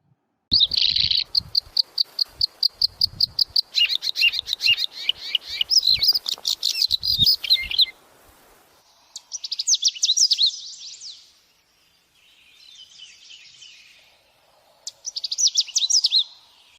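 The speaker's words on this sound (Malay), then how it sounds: "Jom kita dengar bunyi burung." Small birds chirp and sing up close in rapid, repeated high tweets, with pauses between short bursts of warbling song over a quiet background.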